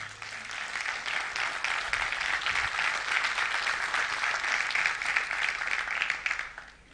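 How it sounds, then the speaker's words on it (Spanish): Sustained audience applause fills a sermon hall, a steady dense wash of clapping at even loudness that fades out at the very end, with no talking over it. "Y si usted puede dar un aplauso a lo que acabo de decir, hágalo."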